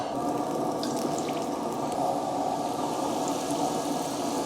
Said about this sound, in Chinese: 油温160度到170度，可以下锅了啊。